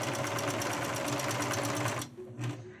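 A sewing machine runs fast and steady, stitching cotton fabric for homemade face masks, then stops after about two seconds and gives one brief further burst.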